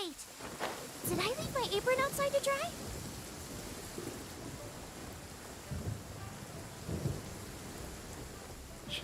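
Thunderstorm rain in the video game Genshin Impact: a steady hiss of heavy rainfall with low thunder rumbles, while a voice briefly speaks near the start over the downpour.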